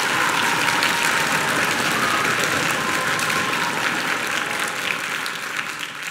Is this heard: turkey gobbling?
no